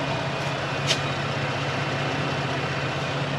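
A Ford Raptor pickup engine idles with a steady low rumble and a thin, constant whine running over it, close and unchanging throughout.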